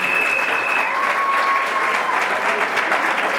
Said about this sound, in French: Est-ce qu'on peut l'acclamer s'il vous plaît?